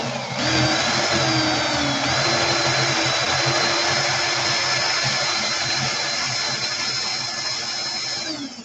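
A power tool whirs steadily and loudly while sanding and polishing a coiled 36-gauge staggered fused Clapton wire, its motor tone holding nearly constant for several seconds with no talking.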